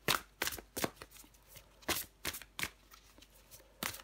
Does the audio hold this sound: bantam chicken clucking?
no